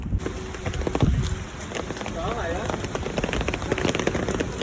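Heavy rain mixed with hail pours steadily in a dense, close hiss, with a faint voice somewhere underneath.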